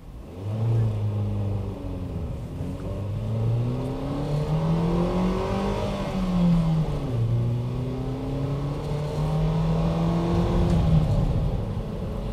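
A Ford EcoSport pulls away from a standstill in city driving, its engine droning and rising in pitch through a gear change and continuing to climb, heard close and steady from inside with no talk.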